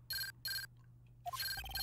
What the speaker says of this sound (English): The transceiver!